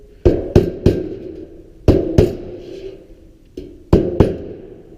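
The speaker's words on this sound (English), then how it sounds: "we'll continue to tap that corner over" A screwdriver tapping over the corner of a sheet metal square-to-rectangular transition elbow: sharp, ringing metallic knocks in three clusters of two or three hits each, close and loud.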